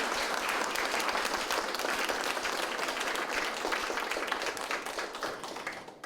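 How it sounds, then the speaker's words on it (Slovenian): An audience at a bobbin-lace society gathering in Ravne na Koroškem breaks into dense, sustained applause, many hands clapping steadily and close for about six seconds before tapering slightly at the end, with no voices over it. "En aplavz."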